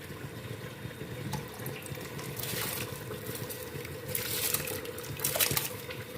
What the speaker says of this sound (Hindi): अब इसमें हम चावल डाल लेंगे।